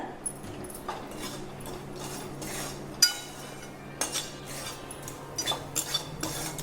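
Spatula scraping and stirring spices with garlic and coconut in a pan for a Marathi jackfruit vegetable dish, giving soft scattered clinks and scrapes at a moderate distance, with no talk.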